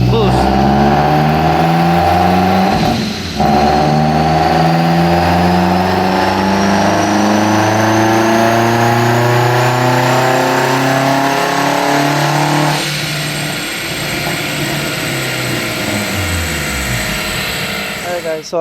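A turbocharged Hyundai Elantra revs hard on a dyno with a boost problem, the engine note climbing steadily in long loud pulls, a sharp break near three seconds and another shift in tone before winding down.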